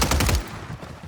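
A quick, loud rattle of gunshots from Warzone, a few rapid shots packed into the first half-second before fading into a low background hum.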